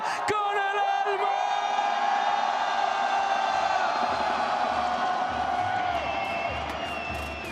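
A large arena crowd at the VALORANT Masters Santiago esports grand final roars and cheers continuously, with whoops and yells rising over a dense wall of noise that fades slightly toward the end.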